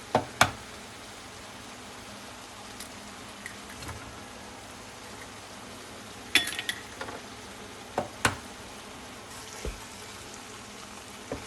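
Ground sausage cooks in a pan on a kitchen stove. There is a soft, steady sizzle with occasional sharp taps and clinks from the pan, heard faintly and without any talk.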